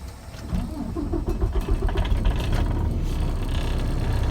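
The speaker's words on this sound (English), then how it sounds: "Go ahead and start the truck." A Class A truck's engine cranks and catches, rising into a steady, loud diesel idle rumble that continues throughout after a brief starter whir.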